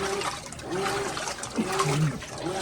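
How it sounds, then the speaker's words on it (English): A GE washing machine with a faulty control board drains its water, a continuous close trickling gurgle running steadily under faint intermittent voices. "Yep, we're draining."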